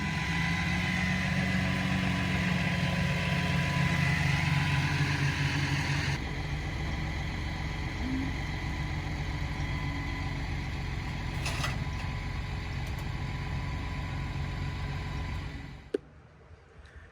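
A cammed 1999 Chevy Silverado single cab pickup engine runs steadily at idle for most of the stretch, a loud, continuous low rumble that shifts slightly partway through before cutting off near the end.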